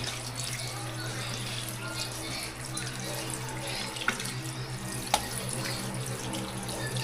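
Tap water runs steadily into a sink while something is rinsed to wash off salt, with a continuous splashing flow and a couple of small clinks.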